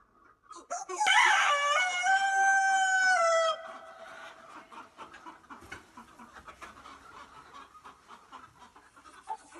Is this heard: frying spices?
no